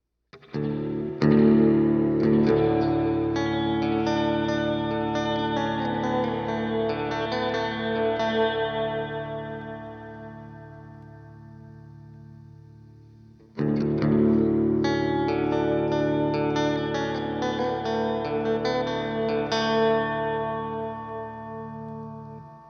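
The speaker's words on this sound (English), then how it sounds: "I think that it's a more metallic sounding reverb" An electric guitar plays through a Boss reverb pedal with every setting turned all the way up, two ringing strummed chords each left to decay into a long, shimmering, metallic wash of reverb.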